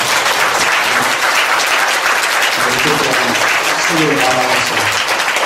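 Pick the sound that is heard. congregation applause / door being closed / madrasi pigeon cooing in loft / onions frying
congregation applause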